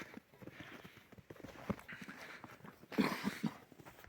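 Hooves of the stallion Ramir clip-clop at moderate distance in the village of Kosmach, a few distinct strikes standing out over a busy outdoor background.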